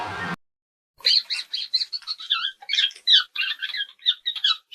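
A sparrow chirps in a quick series of bright, high twittering calls with short gaps between them, close and clear with nothing else behind them.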